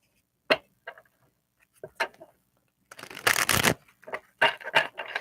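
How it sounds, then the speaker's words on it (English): Tarot cards being shuffled in a few short bursts, then a longer dense riffle and more quick flutters, close and fairly quiet with no talk. "let's pull some tarot cards"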